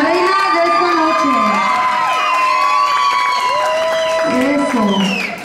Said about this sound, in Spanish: Que se escuchen esos fuertes aplausos para la reina de esta noche.